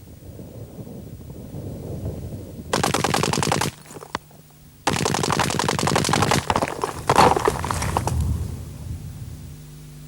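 Two long, loud bursts of automatic fire from a small-arms machine gun strike a brick wall, each a dense rapid rattle of shots. A short quiet gap separates them, with outdoor wind noise between and after the bursts.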